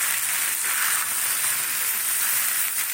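A potato, curd and spring onion curry with spices sautés in a pan, giving off a steady, close, continuous sizzling hiss with soft pulses as it is stirred.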